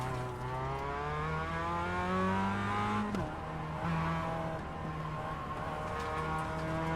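Mazda MX-5 racing around a circuit, its engine revving hard and continuously close up, pitch climbing through the gears with a quick shift around the middle.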